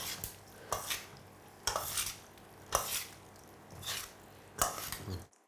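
Beef salad dressed with pumpkin seed oil is tossed in a bowl, making about five separate bursts of wet mixing and scraping close by, with short pauses between them and no talking.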